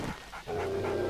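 A dog pants in the survival video game 7 Days to Die, a steady run of quick breathy huffs close by, alone without any talk.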